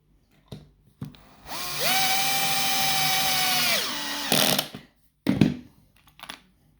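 A cordless drill drives screws into a B&Q kitchen base unit during assembly, with a steady whirring run of about two seconds, preceded and followed by short clicks and brief bursts, close and fairly loud.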